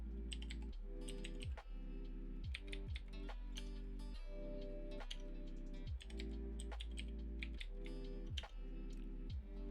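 Fingers tap a computer keyboard to enter and confirm a password, a quick run of close, crisp clicks in uneven bursts with short pauses, against faint hum.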